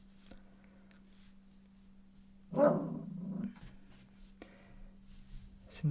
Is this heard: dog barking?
yes